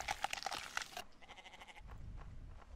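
A goat bleats in the horror video game Chupacabras: Night Hunt, a short, faint series of nasal bleats over a muffled, crunchy background.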